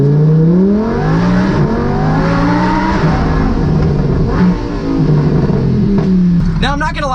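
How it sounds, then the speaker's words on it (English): A Lamborghini Huracan with a new exhaust and tune accelerates hard through a tunnel, its engine rising in pitch through several gears with loud, close reverberating roar, ending in a burst of crackles. "a Huracan with a new exhaust, and a new tune"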